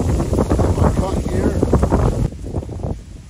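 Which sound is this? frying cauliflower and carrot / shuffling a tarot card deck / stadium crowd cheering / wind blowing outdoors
wind blowing outdoors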